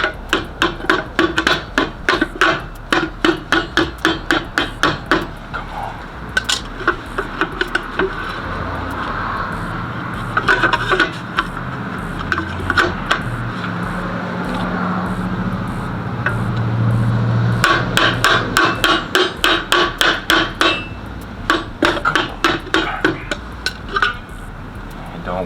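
A vice grip's end taps on a rally center cap for Chevy wheels, giving rapid metallic knocks in fast bursts, close and loud, pausing for scraping and rubbing in the middle before the tapping resumes.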